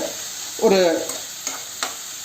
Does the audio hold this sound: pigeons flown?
no